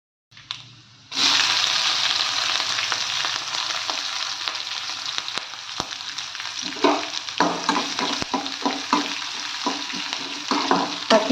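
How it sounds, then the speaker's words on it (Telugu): Spices and curry leaves for a tempering sizzle hard in hot oil in a pan, a loud steady crackle starting abruptly after a quiet moment, with bursts of spattering and stirring as it goes on. "2 స్పూన్ల ఆయిల్ వేసానండి. అది కొంచెం కాగింది. పోపు దినుసు మొత్తం వేసేసుకుంటున్నాను."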